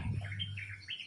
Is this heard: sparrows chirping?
yes